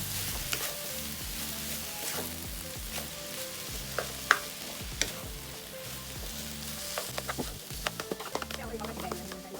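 Rice and Chinese lap cheong sausage stir-fried and mixed in a pan, a steady sizzle under talking with scattered scraping and clinking of a utensil against the pan.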